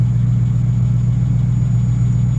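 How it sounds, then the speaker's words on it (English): A Lexus LS400 engine idling, a loud, steady low hum with an even drone and no revving, heard up close and alone. "the motor's not overheating, idling"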